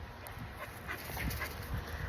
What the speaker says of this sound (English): She's a strong dog.